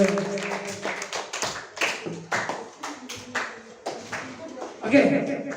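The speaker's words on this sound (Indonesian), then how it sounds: "Nah, tepuk tangan untuk kelompok." Sixth-grade pupils clapping for a group in a classroom, a sparse, uneven patter of hand claps with voices speaking and chuckling over it.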